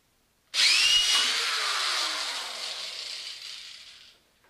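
A power drill bores into wooden workbench legs in an apartment, one sustained loud whining burst that starts abruptly and slowly fades as the bit works through the wood.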